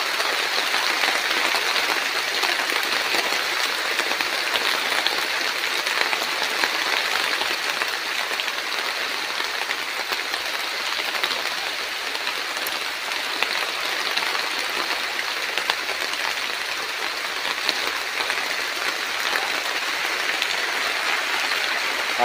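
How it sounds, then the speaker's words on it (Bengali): Steady rain falls over a village garden, a dense continuous hiss of drops without breaks, moderately loud and unbroken by any voice. "এই যে দেখেন বৃষ্টি হচ্ছে।"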